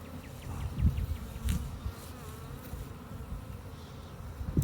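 Steady buzzing of many honey bees close by at a hive, a continuous drone with occasional louder passes, no voices.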